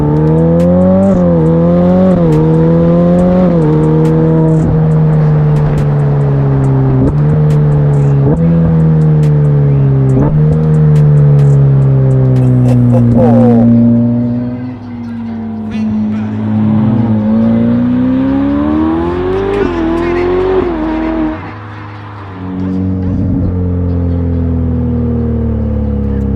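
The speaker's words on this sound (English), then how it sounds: "it just ends up giving you this blowing sound from the turbos" A Ferrari F8 with Novitec tuning, its turbocharged engine droning loud and near as it rises and falls through repeated gear pulls at speed, with whooshing turbo blow-off between shifts.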